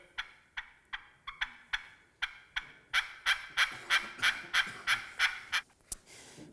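A turkey call under $20 works out a run of short, sharp clucks, sparse and uneven at first, then quickening into a steady, evenly spaced series of about a dozen crisp, fairly loud notes, each standing alone.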